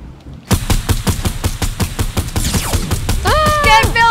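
Rapid automatic gunfire from a silenced SCAR in Fortnite, a steady train of sharp, close shots firing about four per second without pause, with bright pickup and building chimes joining toward the end.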